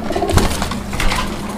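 Fancy pigeons, a breeding pair with males on either side of the hen, coo continuously amid loud, busy background noise from the pen.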